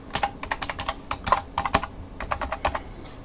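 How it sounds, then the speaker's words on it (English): Quick, close clicking of keys typed on a computer keyboard, an uneven burst of taps with a brief pause midway. "I'm going to type in just anything"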